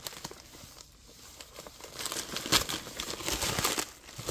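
A package opened by its pull tab, with crinkling and tearing of packaging building from soft rustles to louder, denser crackles, close and alone.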